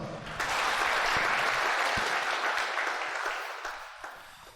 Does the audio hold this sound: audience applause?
yes